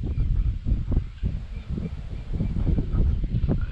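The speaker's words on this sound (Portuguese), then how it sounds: "desculpa o barulho do vento aí," Strong wind blowing outdoors buffets the microphone with constant low, rumbling gusts that swell and dip throughout, loud and close, with no voice heard.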